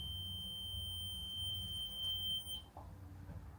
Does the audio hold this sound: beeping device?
yes